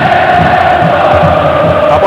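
Palmeiras supporters roar in a packed stadium during the 1994 Paulista state championship match against Corinthians, a dense, steady wall of crowd noise with chanting that holds throughout.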